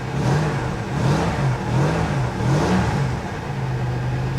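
Car engine at auction revving in four quick blips, each rising and falling, then settling into a steady idle, close and fairly loud with no talk.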